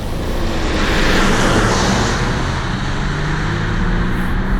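A 2020 Volvo XC90 T8 hybrid drives in power mode, giving a loud, steady interior roar of engine and road noise that holds constant throughout with no voices.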